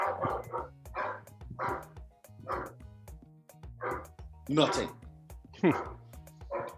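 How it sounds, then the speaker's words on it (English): A dog barks repeatedly in short, loud bursts, some rising into yelps, while a person talks over the barking throughout. "Like, what is he barking at?"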